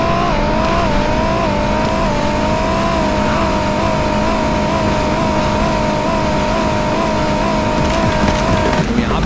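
Two engines, a Porsche SUV and a heavily modified Nissan Nismo, run in a drag race inside a car simulator game. They roar loudly and steadily, holding a high whine that rises and dips slightly for about nine seconds.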